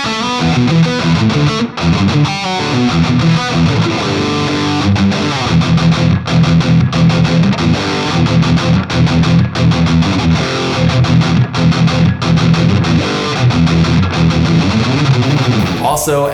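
Ernie Ball Music Man JP15 electric guitar played through a high-gain distorted amp tone, a loud, dense, sustained riff of chugging chords and notes running continuously for the whole stretch with no talk over it.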